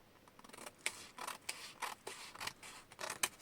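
Scissors snipping through junk journal paper, a quick irregular run of about ten crisp close-up cuts with no talking.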